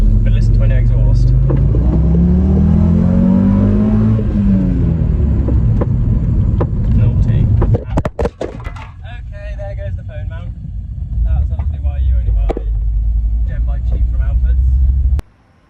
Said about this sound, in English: but listen to my new exhaust.